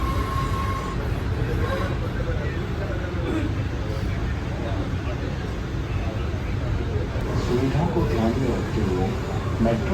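Interior of a Jaipur metro train running at speed, with a steady rumble, rattling, and faint wheel squeal throughout, while people talk over it.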